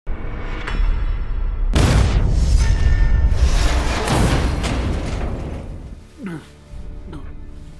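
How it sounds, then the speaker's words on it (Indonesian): A car explosion erupts with a sudden booming blast that flips the car, followed by a long rumbling roar that slowly fades, ending with faint crackles and a whoosh. "mobil itu pun terbalik karena ledakan"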